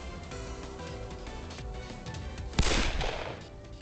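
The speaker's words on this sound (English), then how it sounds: "Shiranu let off gunfire at the pack of incoming Furies." Gunfire in the game Hakuouki Edo Blossom: a single sharp shot cracks out over a busy game soundtrack, trailing off in a brief noisy burst, fairly loud against the quieter background.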